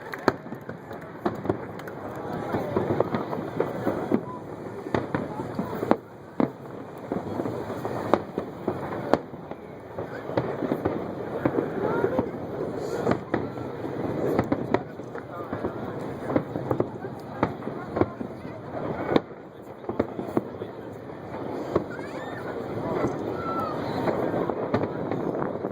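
Fourth of July fireworks over New York City burst continuously as a dense, rumbling barrage of booms and crackles, with a crowd's voices mixed in throughout.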